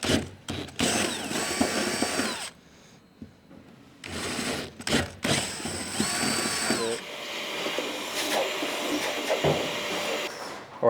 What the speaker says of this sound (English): We're going to go enlarge all the holes on the roof.